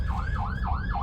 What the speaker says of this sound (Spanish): Voy a hacerme un poco hacia la izquierda porque viene una patrulla.